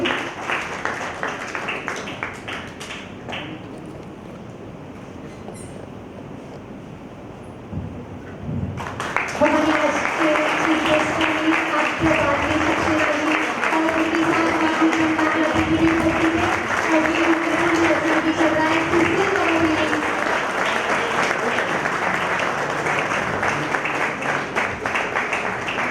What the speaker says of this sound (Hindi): हम तालियों के साथ इस पल को ज्यादा यादगार बनाएंगे